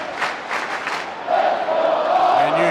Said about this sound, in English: And you hear that Auburn crowd.